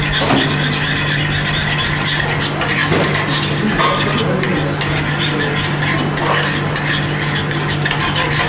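Food fries loudly in a pan, a constant close sizzle mixed with scraping, stirring and utensil clatter, a low steady hum running underneath throughout.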